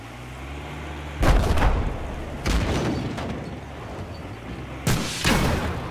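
Grenade launcher fire in the video game Battlefield 4, three heavy booming blasts spread across a few seconds, each a loud low thump with a rumbling tail over steady game ambience.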